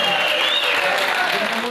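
An audience applauds at a public event in a steady, loud wash of clapping, with voices mixed faintly into the sound.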